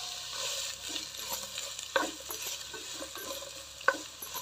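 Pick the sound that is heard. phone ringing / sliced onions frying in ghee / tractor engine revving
sliced onions frying in ghee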